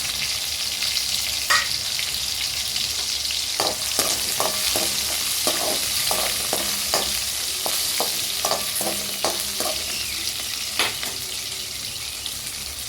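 Onions frying with spicy masala in a pan, a loud, steady close-up sizzle with repeated spoon scrapes and clicks of stirring throughout, no voices.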